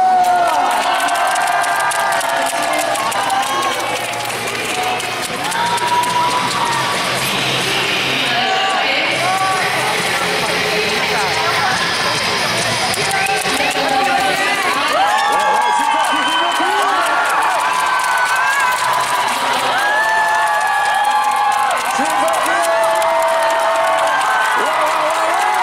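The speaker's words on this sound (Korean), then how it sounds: "박수! 박수! 박수!" A large indoor crowd at a short track speed skating World Cup women's 1500 m semifinal in Seoul keeps up loud cheering, clapping and shouting throughout, with an announcer's voice carrying over it.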